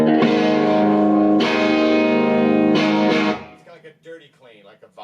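Sustained clean electric guitar chords through a GDS 18-watt kit tube amp ring out for about three seconds, then fade as a person starts talking.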